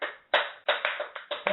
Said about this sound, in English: This is a standing ovation in honor of JamieLee Curtis and her fantastic Trading Places rack